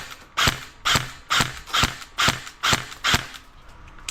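A Bolt DDM4 RIS 3 airsoft rifle fires eight evenly spaced shots, each a sharp mechanical clack of the recoil action, close and loud with no talking.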